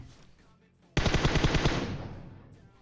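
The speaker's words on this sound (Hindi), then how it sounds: "वो साइड से गोलियां पेल रहा था" Automatic gunfire from a buggy-riding opponent in PUBG Mobile erupts in a loud, rapid burst of close shots that rings out and slowly fades, with faint background noise before it.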